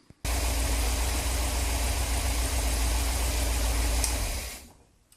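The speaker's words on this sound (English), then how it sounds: "So now I've got an engine that's running nicely on a fast tick over." A Rover V8 engine fitted in a 1953 Riley RMF with quad carburettors starts up and idles on a fast tick over, a steady loud rumble that holds for several seconds before cutting off.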